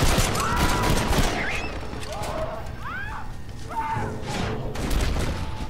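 Gunfire in the zombie western game Red Dead Redemption: Undead Nightmare, a dense, continuous din of shots and crashing impacts with whistling game effects and voices sounding over it.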